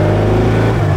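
A Porsche 550 Spyder's engine drones loud and steady from the low open car while driving, a deep sustained hum with no speech.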